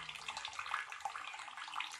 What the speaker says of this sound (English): Turn my water down some so making all that noise